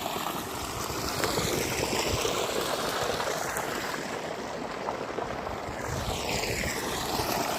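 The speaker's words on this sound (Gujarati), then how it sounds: "તો મોટર ચાલુ કરી દીધી આપણે।" A motor hums steadily while water gushes out in a strong, continuous rush, close and fairly loud throughout.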